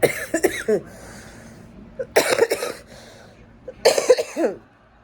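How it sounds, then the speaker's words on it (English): Three separate bouts of coughing, each a quick cluster of harsh hacks, with quiet pauses between them in a calm room. "As y'all can hear, as far as me coughing, that's the only thing I'm getting."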